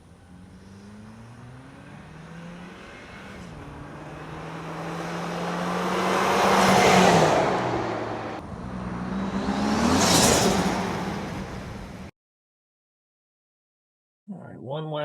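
A Toyota Tacoma, fourth generation, fitted with a SXTH Element CPLT intake passes by outdoors, engine and road noise swelling twice to loud peaks before cutting to silence, with a faint bit of talk at the very end.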